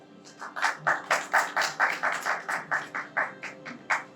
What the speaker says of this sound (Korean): 박수로 대표님 한번 모셔보도록 할게요.